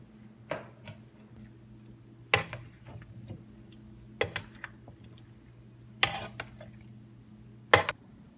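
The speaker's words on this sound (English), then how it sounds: "we're going to mix it" Pasta stirred with butter and cheese in a pot over low heat: sharp clinks and scrapes of a utensil against the pot recur every second or two over a faint steady hum, with no talking.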